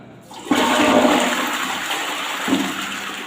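A toilet flushes in a bathroom, just after a cleaning liquid was poured in to lift yellow stains left by borewell water. A sudden loud rush of water bursts in and roars steadily, with a second surge near the end.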